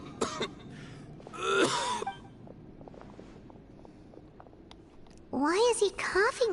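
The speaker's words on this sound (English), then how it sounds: "Why is he coughing so much?" Ailing old leader character in Genshin Impact coughing in harsh, raspy bursts: one near the start, another around the middle, then a longer fit at the end. Quieter breathy sounds fill the gaps, with no clear words.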